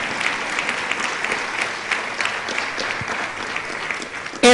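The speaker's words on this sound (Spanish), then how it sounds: "Den un aplauso a Dios." Applause from a church audience fills the whole stretch, a steady patter of clapping hands at moderate distance with no talk over it.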